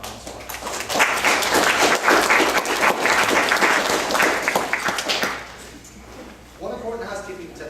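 Dense audience applause at a Money Smarts class on starting and running a business, loud and steady for about five seconds before thinning out, followed by brief quieter talk.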